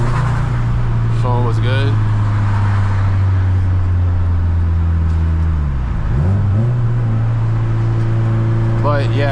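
A Subaru WRX hatchback's engine hums steadily at close range as it drives through downtown city streets, with a voice talking over it and brief revs rising now and then.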